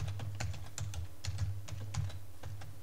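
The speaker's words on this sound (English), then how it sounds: "Let me type in the password." Quick, close clicks of a computer keyboard as a password is typed in, a run of about a dozen keystrokes with no talk.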